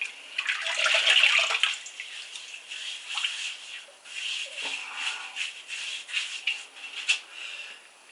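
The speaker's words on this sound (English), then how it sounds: "So I'm going to go ahead and wet my head." Water splashes and trickles as a head is wet before a shave, a close, hissing wash of running water with soft rubbing and scattered drips, rising and falling in bursts with no talk.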